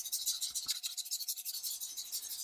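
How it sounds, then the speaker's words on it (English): Hand sanding of cured filler putty on a brass Brewster lamp, short rapid back-and-forth rasping strokes, close and steady, with a brief pause partway through. "After letting it cure overnight, I'll sand this one off."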